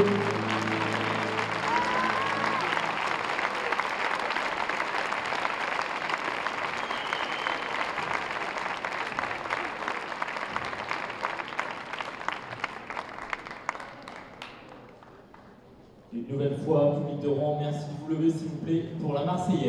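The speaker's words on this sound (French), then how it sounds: "je vous demande une nouvelle fois d'applaudir les quatre joueurs" An audience at a badminton doubles final applauds the four players, sustained dense clapping for about fifteen seconds that fades out, after which a voice speaks over the quieter hall.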